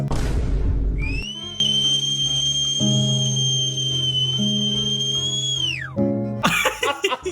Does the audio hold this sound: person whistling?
yes